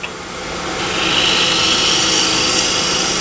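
A blade is sharpened on a premium CBN grinding wheel to raise a fresh burr, giving a steady, loud whirring grind that swells after a brief start and holds close and continuous.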